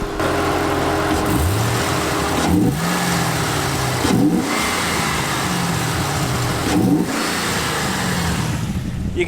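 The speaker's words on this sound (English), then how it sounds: "You can hear how the Walkinshaw causes that induction noise." A deep LS3 V8 in an HSV VE Maloo ute with a Walkinshaw induction kit drones loudly and accelerates through several gear changes, with a strong induction roar dipping briefly at each shift.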